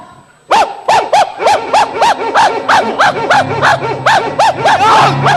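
A dog barks loudly and close by in a Khmer comedy sketch, giving about a dozen sharp barks in a quick, fairly even rhythm that continues to the end.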